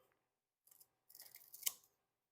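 Scissors snip a giganteum houseplant stem cutting with a small opening click, then a longer crisp slicing snip close to the microphone in an otherwise silent room.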